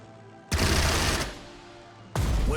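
Gunfire downs an aircraft in the Pacific naval strategy game Strategic Mind: The Pacific, in two loud bursts of rapid shots separated by a short lull, the first lasting nearly a second before tapering off.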